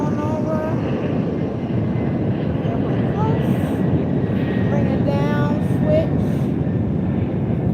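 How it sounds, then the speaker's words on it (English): Low, steady roar of an airplane flying close overhead, loud throughout with a faint voice talking beneath it. "Got the airplane going over."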